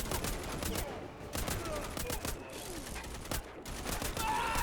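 Rapid gunfire in the video game Band of Defenders, with dense bursts of repeated shots and fusillade-like volleys throughout. A voice can be heard faintly underneath.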